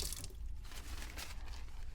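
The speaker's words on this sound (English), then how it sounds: "Close the faucet." Water running from a sink faucet, a steady close wash of flowing water with faint dripping, heard alone with no voices.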